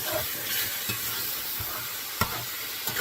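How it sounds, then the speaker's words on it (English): Lasagna sauce being stirred in a cast iron skillet on an electric range sizzles and bubbles steadily up close, with scattered scrapes and soft clicks of the utensil against the pan. "Let's stir that around and see where we're at."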